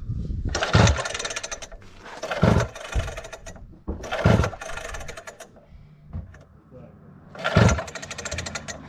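A mini sport motorbike's electric starter cranks in several loud, rough bursts separated by pauses, with people talking between the attempts.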